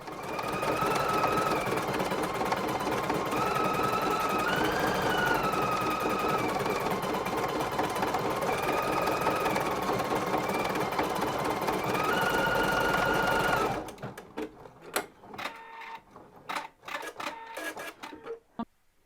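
An embroidery machine stitches a design with metallic thread on a crazy-quilted Christmas tree, humming and tapping in a fast steady rhythm up close for about fourteen seconds before stopping; scattered handling clicks and taps follow.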